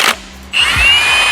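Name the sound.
power tool removing engine cylinder head bolts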